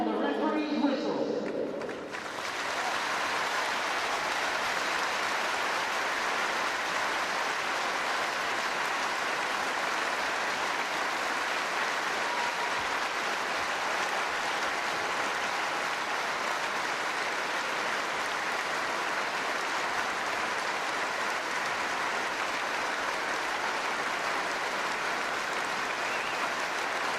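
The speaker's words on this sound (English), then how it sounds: "Please join us in a 30-second moment of applause that will end on the referee's whistle." A stadium crowd at a Women's Six Nations rugby match between England and Ireland holds a long, sustained wall of applause in solidarity with Ukraine, steady and roaring throughout after a brief spoken announcement at the start.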